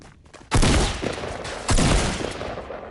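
Two loud, close bursts of gunfire in the video game Fortnite, one near the half-second mark and another just after 1.7 s, each decaying into a rough rumble, with no talking.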